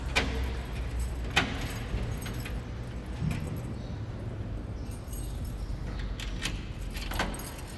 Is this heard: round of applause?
no